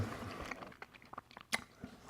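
Someone chewing food close to the microphone, a series of soft, irregular bites and crunchy mouth sounds over about two seconds, with one sharper crunch near the middle.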